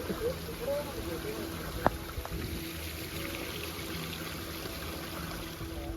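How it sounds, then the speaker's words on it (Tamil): A waterfall on Marunthuvazh Malai flows and splashes steadily in a constant rushing wash, with a few faint clicks and knocks over the top. "அருவியில் தண்ணி வருது"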